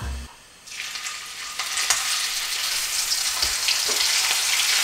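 Flounder caught by fishing goes into a generous amount of hot oil. After a brief quiet moment, a dense crackling sizzle erupts and keeps building, steady and close, with occasional sharper pops.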